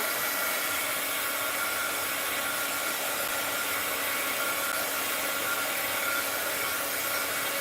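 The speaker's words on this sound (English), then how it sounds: "let's give this a little blow with the heat gun here" Heat gun blowing steadily over a mixed-media art journal page: a loud, constant close-up whoosh of hot air that holds unbroken from start to finish, no voices.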